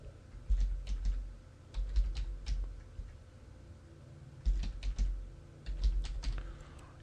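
Fingers type a password on a computer keyboard in several short bursts of close key clicks, with brief pauses between bursts and no voices.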